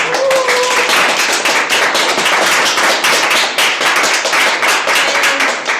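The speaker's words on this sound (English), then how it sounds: "So let's applaud to that." Applause from a Toastmasters club audience at an international speech contest meeting: dense, steady clapping from many hands, loud and continuous for the whole stretch.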